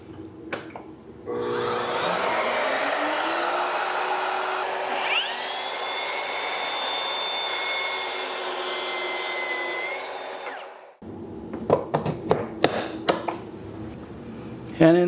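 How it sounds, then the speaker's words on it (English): A YowMoft woodworking dust extractor spins up with a rising whine, runs as a loud, steady vacuum roar with a high tonal hum for about ten seconds, then cuts off, followed by clicks and handling noises. "Checking out the YowMoft dust extractor today."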